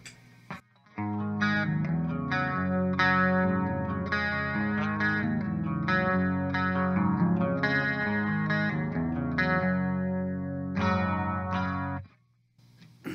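Clean electric guitar with a shimmering chorus effect, chords ringing steadily for about twelve seconds before stopping.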